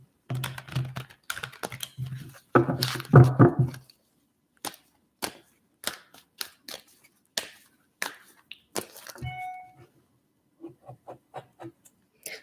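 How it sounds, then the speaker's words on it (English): A tarot deck shuffled by hand makes a dense run of rapid, crisp card clatter, then scattered single snaps and taps spaced apart, close and fairly quiet with no talking. "let's give these a few shuffles."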